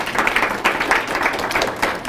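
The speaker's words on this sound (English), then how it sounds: "give yourself a round of applause" Audience applause at a presentation, steady dense clapping from a crowd throughout, loud and close, with no talking over it.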